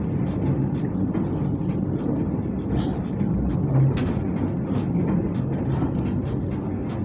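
Inside the Malabar executive-class train from Bandung to Pasar Senen while it is moving, a continuous low rumble with rhythmic rattles and clicks from the carriage at steady loudness.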